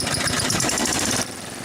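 Toro Z-Master 4000 zero-turn mower engine running: a loud, rapid mechanical clatter with a steady pulsing drone that drops abruptly in level near the end, heard close with no talking.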